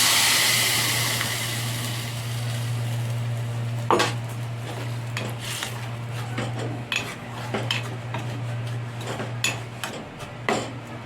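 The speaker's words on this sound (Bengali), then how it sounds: "ভালো করে একটু নাড়াচাড়া করব।" Tomato chutney with chili powder is stirred in a pan, with metal spoon scrapes and clinks in an irregular rhythm over a low steady hum and light sizzle, heard close up.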